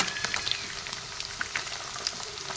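Small fish sizzle and crackle as they fry in oil in a wok, a steady close hiss broken by scattered sharp pops, with no voices.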